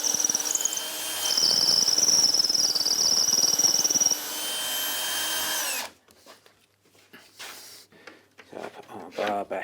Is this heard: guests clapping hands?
no